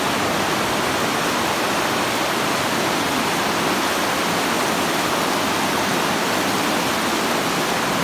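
Water rushes through Tytoona Cave in Pennsylvania as a loud, constant, dense roar, close and unbroken, with no other sounds standing out.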